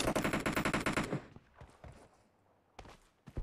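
Rapid automatic gunfire from a sniper shooter video game, a dense loud burst for about a second, then scattered single shots and impacts at varying distances.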